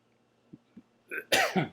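After two soft little throat noises, a person lets out a short, harsh cough close by.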